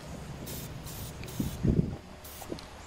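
Spray paint cans in black, white, gold and copper hiss in several short bursts onto water for marbling, each spray a sharp airy blast with brief pauses between and some low handling noise.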